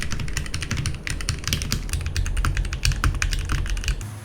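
A budget mechanical keyboard fitted with lubed and filmed Holy Panda tactile switches clatters under fast, continuous typing, with dense rapid keystrokes heard up close and alone.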